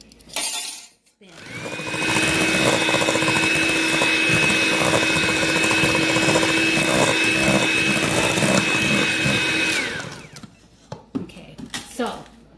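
An electric mixer whips stiff ube meringue cookie batter in a bowl with a steady high whine and rattle, running loud for about nine seconds before switching off.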